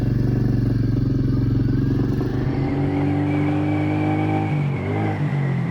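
A Royal Enfield Meteor 350 motorcycle engine pulls away close by, its single-cylinder thump rising in pitch as it accelerates and shifts through gears.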